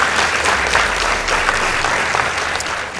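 An audience at a high school debate between St. Teresa's Tartar Girls and Chewoyet bursts into dense, sustained applause after the scores are read, a full crowd sound with no voices over it.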